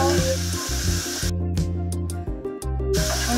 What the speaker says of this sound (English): add in your 2 tablespoons of oyster sauce. Mix it well.